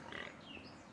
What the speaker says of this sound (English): Look at those pigs!